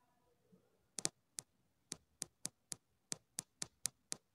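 A dozen sharp, close clicks of keys pressed one at a time on an MSX computer keyboard, in an uneven rhythm with short pauses, against a quiet background.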